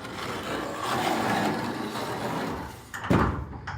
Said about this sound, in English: Now check this out. Another opaque glass sliding door.